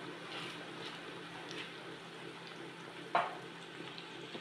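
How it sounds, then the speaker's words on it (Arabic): Spiced eggplant frying in oil in a pan: a faint, steady sizzle with soft crackles throughout and one sharp pop or clink near the end, heard alone without talk. "هنا حطيتهم يتقلاو"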